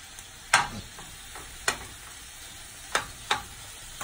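Vadouvan spiced chicken pieces sizzle in a pan under a soft constant hiss, broken by four sharp scrapes and clacks as they are flipped at uneven intervals.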